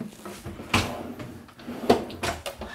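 Drawer in a model-home kitchen sliding open, a few short knocks and rolling scrapes close by, with faint breathy vocal sounds around them.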